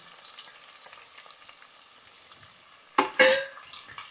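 Green chillies and onions fry in oil: a steady soft sizzle runs throughout, then a louder burst of crackling spatter near the end as the onions hit the pan.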